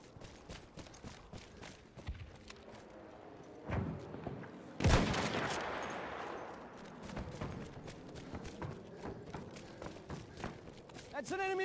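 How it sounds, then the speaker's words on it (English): Bursts of gunfire and distant thumps rattle through a Battlefield 1 battle, including enemy machine-gun fire. Sharp reports come in uneven clusters, with one louder blast midway, and voices talk beneath and between them. "That's an enemy machine gun!"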